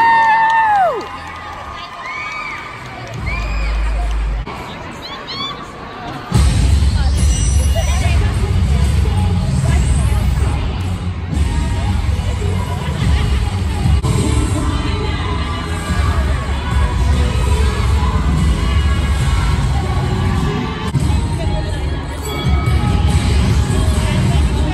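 A large crowd cheers and shouts at a cheerleading state competition for the team High Voltage, loud sustained roaring hubbub with whoops and screams that swells after a quieter opening and carries on throughout.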